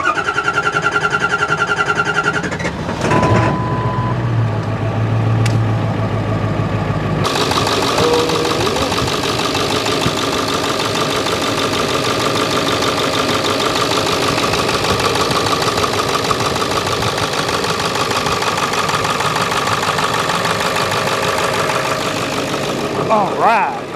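A Ford 7.3 Powerstroke diesel engine cranks, fires and settles into a loud, steady, rattly idle that runs close and continuous for the rest of the stretch.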